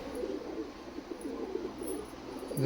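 Dabla Kamagar pigeons coo softly in a continuous low murmur, steady and moderately close, with no speech over it.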